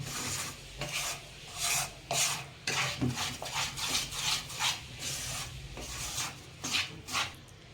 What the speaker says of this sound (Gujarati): અને મિક્સ રીતના કરી દઈશું.